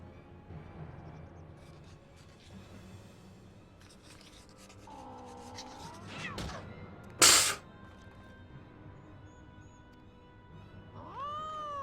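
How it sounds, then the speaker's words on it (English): A cat in Final Fantasy XIV: Heavensward meows and caterwauls in a few drawn-out wails, with a sharp bang in between over a quiet game background. "What the hell is going on with the cat?"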